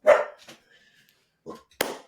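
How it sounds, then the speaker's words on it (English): Indoor dogs bark a few times in short, loud bursts separated by quiet gaps, with nearby voices absent. "Quit barking."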